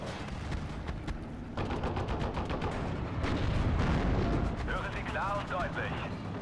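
Heavy bombing from bombers in the World War II strategy game Steel Division: Normandy 44, a dense rumbling barrage of booms and blasts filling the scene, with a voice talking briefly near the end.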